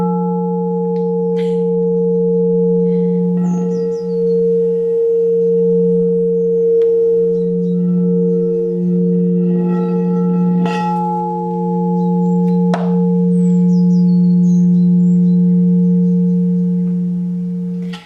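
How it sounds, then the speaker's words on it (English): Large 14-inch clear quartz crystal singing bowls sustaining a loud, pure, steady ringing tone with faint overtones, swelling slightly as they are played, with a few light taps and knocks in the background. "they are my big 14-inch clear quartz crystal singing bowls"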